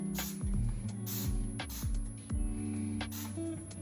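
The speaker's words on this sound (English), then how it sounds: "So I'm just gonna spray" Spray bottle misting cleaner onto a glass jar label, four or five short hissing squirts in an uneven rhythm, close and distinct over a steady low background hum.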